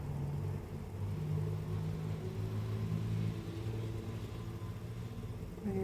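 An Ashford E-Spinner 3 electric spinning wheel runs with a steady, low motor whir and hum. Its pitch shifts slightly as the speed changes, and it plays alone at moderate volume.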